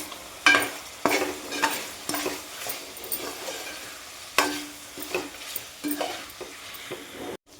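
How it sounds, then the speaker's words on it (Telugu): Chicken coated in chili powder, coriander powder and chicken masala frying on high flame in a pan, a steady close sizzle punctuated by repeated scrapes and clinks of a spoon stirring against the metal, with no talk. "హై ఫ్లేమ్లోనే 15 నిమిషాలు ఫ్రై చేసుకోవాలండి"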